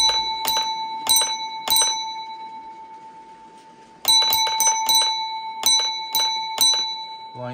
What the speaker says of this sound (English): It has 5 bells, 5 beats for this express freight.